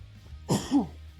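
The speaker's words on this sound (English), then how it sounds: "Another big cough." A single hard cough and throat clear during a wrestling management game commentary session, a short rough burst followed by a lower rasping clear, close and fairly loud over a quiet background.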